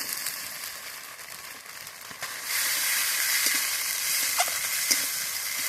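Chopped tomato and salt hit a hot pan with garlic paste, the sizzle jumping louder about halfway through and then holding as a steady bright hiss, with a few small pops and stirring sounds.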